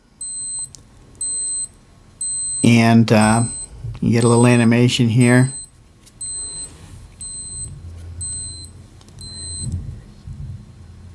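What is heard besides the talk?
Casio G-Shock Rangeman GW-9400 countdown timer alarm beeping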